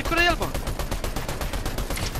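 Rapid automatic gunfire in a video game rattles in a dense, continuous burst, loud and close, while a player speaks over it.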